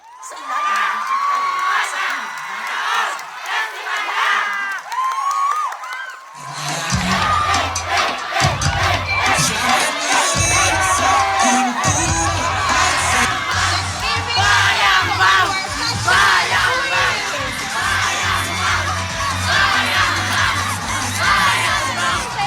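A large crowd cheers, whoops and shouts at a street dance competition during the Taraon Festival 2025 in Infanta; the first few seconds stay quieter before the roar surges, then holds loud and continuous with heavy low thumping underneath.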